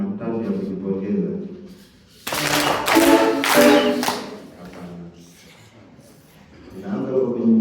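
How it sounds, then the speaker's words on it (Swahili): A group claps together in a burst of self-congratulation, a few loud sharp claps close by, between stretches of talking. "Naomba tupige makofi matatu ya kujipongeza"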